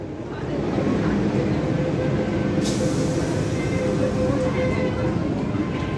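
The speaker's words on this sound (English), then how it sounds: "So this is a 2C generation M-Train right here." MTR M-Train subway train, 2C generation, leaving Yau Ma Tei station on the Tsuen Wan Line in Hong Kong, a steady loud rumble with tonal motor whine heard from on board, with a voice talking over it.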